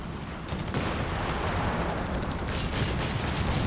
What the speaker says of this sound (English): It's a big burst from the flak